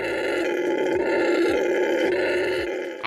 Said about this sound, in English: It's also home to very noisy howler monkeys.